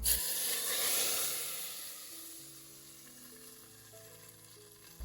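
Cumin and red chilli sizzle in hot oil for dal gosht with a loud hiss that slowly fades to a softer fry, while a faint tonal hum sits underneath.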